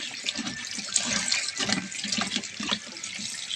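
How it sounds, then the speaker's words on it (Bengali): Cut potatoes washed under running tap water in a sink, a continuous close splashing and gurgling with shifting swishes as the pieces are rinsed by hand, with no talking. "আলুটাকে আমি ভালো করে এখন ধুয়ে নেব আর একবার জল দিয়ে"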